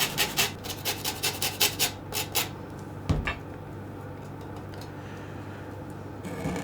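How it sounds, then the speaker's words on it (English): Lemon zest is grated for a lemon blueberry cake, with about a dozen quick, rhythmic rasping strokes close by over two seconds. A single clink follows, then quiet. "just going to get 2 lemons and I'm going to grate the zest into here"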